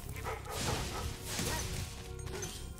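Dogs barking in the video game Spyro Reignited, yips and barks mixed with crashes, whacks and swooshing game effects in a continuous busy soundtrack, with no speech.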